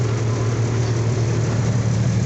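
A truck engine idles steadily during an ice storm, a constant low rumbling hum with a firm tonal drone, close and unbroken, with no voices.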